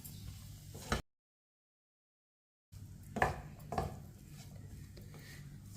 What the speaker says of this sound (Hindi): आलू को ना अच्छी तरह मिक्स करना है।